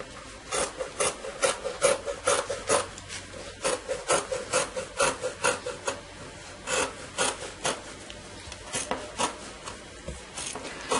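Scissors cutting fabric for a plus-size men's shirt with a Mao collar and raglan sleeves: repeated rhythmic rasping snips, close and fairly quiet, with no talking.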